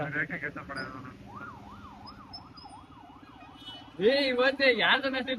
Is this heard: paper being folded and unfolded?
no